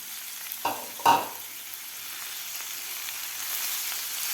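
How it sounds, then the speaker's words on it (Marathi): Two quick scraping clatters sound as washed fenugreek leaves go into moong dal frying in oil, after which a quiet, steady sizzle carries on alone. "मी आता धुवून घेतलेली मेथीची भाजी घालायची आहे यामध्ये"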